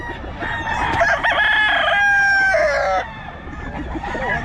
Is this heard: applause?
no